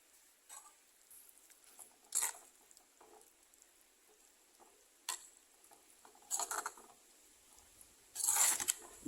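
Coconut milk poured into a bitter gourd curry with the flame off: quiet, scattered splashes and short sizzling bursts at close range, with no talking.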